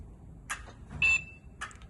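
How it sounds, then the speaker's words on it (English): A Rubicon DX joystick on a powered wheelchair gives a single short, bright electronic beep amid a few faint clicks and handling noises, heard up close in a quiet room. "beeping sounds, like you turn it off, turn it on."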